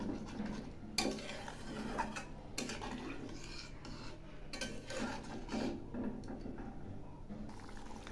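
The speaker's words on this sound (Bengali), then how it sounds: "এবার আমি একটু নেড়ে দিচ্ছি।" A spoon stirs a simmering fish curry in a pan just after water is added to the fried spices, giving repeated scraping and clinking strokes with soft liquid sloshing, fairly quiet.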